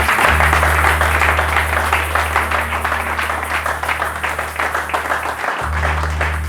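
A church congregation applauds to acclaim the Lord, with dense, steady clapping from many hands over a low sustained hum throughout.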